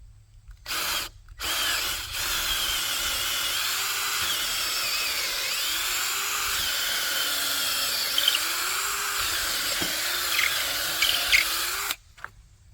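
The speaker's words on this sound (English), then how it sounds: "I'm going to drill a hole here" A power drill boring a hole outdoors: two short trigger bursts, then roughly ten seconds of continuous, close, loud whirring that changes slightly in pitch as the bit works, before stopping abruptly.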